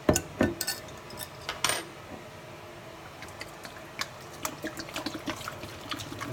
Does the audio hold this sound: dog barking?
no